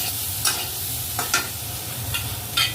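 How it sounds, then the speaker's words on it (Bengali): Taro stolons with turmeric fry in a pan with a soft, steady sizzle, punctuated by four quick scraping stirs spaced irregularly across a few seconds; no one speaks. "এটা এবার একটু ভাজা একটু ভালো করে ভেজে নিতে হবে এবার এর মধ্যে ভেজে রাখা কচুর লতিগুলো দিয়ে দেওয়া হচ্ছে"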